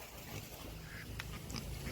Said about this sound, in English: These are Pekin ducks, if anybody was wondering.